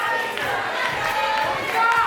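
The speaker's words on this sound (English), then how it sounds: "Now the crowd chanting that Rocky's going to kill him." A wrestling arena crowd chants together in a steady, dense roar that swells slightly toward the end, continuous and fairly loud with no clear single voice standing out.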